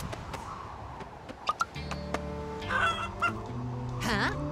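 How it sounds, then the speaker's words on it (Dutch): A cartoon chicken clucks from inside a bush, giving a series of short squawks and honking clucks that rise into a longer warbling cackle, set against background music. "Hoor ik die struik nou kakelen?"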